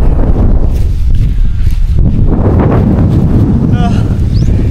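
Heavy wind blasting across the microphone, a loud, unbroken rumbling roar with shifting gusts throughout.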